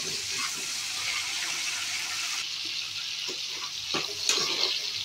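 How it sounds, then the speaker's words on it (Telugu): Green chillies frying in hot oil in a pan give a steady close sizzle and crackle throughout, with occasional louder pops and stirring scrapes near the end. "పచ్చిమిరపకాయలు పచ్చివాసన పోయే వరకు వేగించుకోవాలి."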